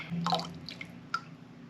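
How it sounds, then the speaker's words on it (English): Beef broth for canning ground beef is poured through a canning funnel into jars, giving soft drips and small liquid splashes, quiet and close, with no talk. "So we're just going to fill each jar with beef broth up to 1 inch of headspace."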